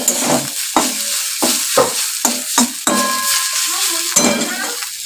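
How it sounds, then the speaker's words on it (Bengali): Leafy greens frying in a pan on a home stove, a soft sizzle under repeated sharp scrapes and knocks of a spatula stirring against the metal at an uneven rhythm. "এদিকে শাকটা ভাজা হচ্ছে"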